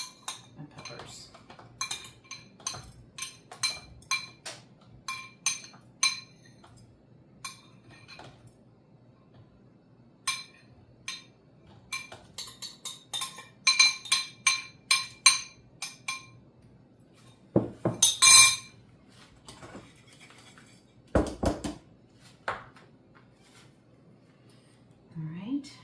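Cherry tomatoes and peppers dropped one after another into a glass jar for pickling, giving a string of sharp clinks and knocks, quieter at first and then busier, with a couple of louder clattering bursts near the end.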